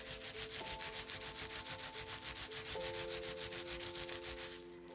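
Wool being rubbed and smoothed over a felted rock, with quick, regular rubbing strokes repeating at a steady pace over a constant low hum, close and fairly quiet.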